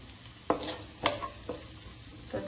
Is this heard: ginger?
yes